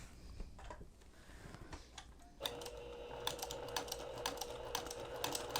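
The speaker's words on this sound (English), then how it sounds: "I'm just coming over to my machine and stitch in the ditch using the walking foot" A sewing machine with a walking foot stitches in the ditch on a fabric book pillow; after a quiet start it whirs steadily with fast rhythmic needle ticks, close and fairly soft.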